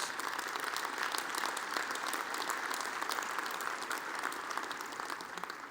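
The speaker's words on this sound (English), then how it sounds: "that does deserve a round of applause" Audience applause following a 2014 inaugural address, a dense, steady wash of many hands clapping at moderate distance, sustained evenly for several seconds and fading slightly at the end.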